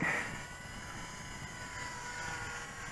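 A Jasco Spotter biplane model aircraft buzzes steadily at full throttle on its maiden flight while it struggles into the wind. The high engine whine stays constant and moderately distant throughout.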